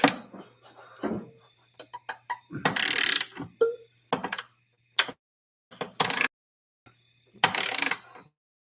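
A ratchet works a nut loose on a Ford S197 Mustang during a transmission mount job. Bursts of metallic clicking and clatter are separated by short pauses and heard close up and alone.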